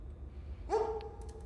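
A dog in the video game Replaced gives one brief, faint bark over quiet background hum.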